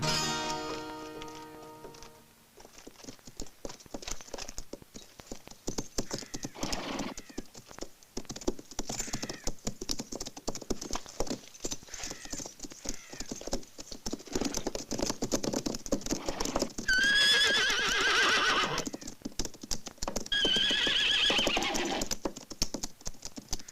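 Horses galloping in a 1968 western film, a rapid patter of hooves running on and on at moderate loudness, with whinny-like cries rising around the middle, no clear talk.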